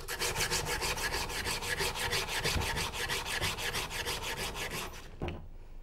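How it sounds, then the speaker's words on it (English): A thin oxide layer is scraped off a metal surface in fast, evenly spaced strokes that form a loud rasping rhythm. The scraping stops abruptly just before the end. "When we scrape this thin oxide layer, the oxide layer gets scraped off."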